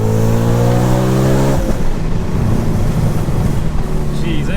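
An Audi RS4 B7 engine under acceleration, with a rising harmonic drone that cuts off into a rough, crackling overrun as the throttle lifts, loud and close inside the car.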